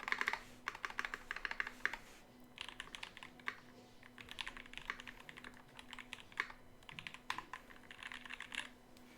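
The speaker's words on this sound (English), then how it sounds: "Do a little typing test" Typing on a LEAF60 mechanical keyboard fitted with H1 switches on a brass plate: quick bursts of crisp clacky keystrokes with short pauses between runs, close up and clear, a faint low hum underneath.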